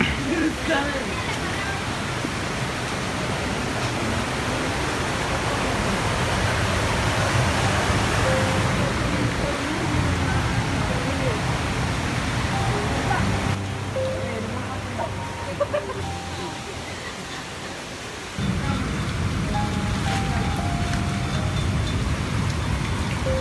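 Heavy rain pours down near Odakkolly cave at Palavayal in Kasaragod. It makes a dense, steady roar close by that holds loud throughout, dipping briefly before surging back.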